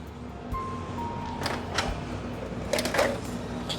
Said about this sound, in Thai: หลังจากนั้นเครื่องพิมพ์จะรับคำสั่ง